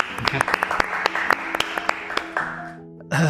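An audience applauding at a talk on spirituality, justice and Bitcoin, sharp scattered claps over a busy room tone, with a voice speaking across them before the clapping fades and a louder sound cuts in.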